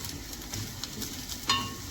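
Clams fry in a pan with a soft, steady sizzle while being stirred, and a brief metallic scrape of the spoon comes near the end, quiet and close with no talk.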